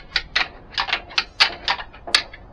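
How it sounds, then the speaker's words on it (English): Synthetic deer antlers on a Black Rack rattling device are clacked and ground together in quick, irregular bursts of dry clicking and rattling, close and fairly loud, with no talking. "The blackrack has a really good sound to it."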